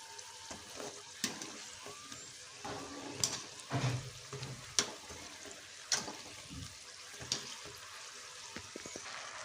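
Egg and potato stuffed kajjikaya frying in oil, a soft continuous sizzle with occasional bubbling bursts and utensil taps, close but fairly quiet.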